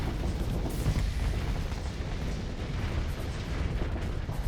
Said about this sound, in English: Also for the pretty explosions.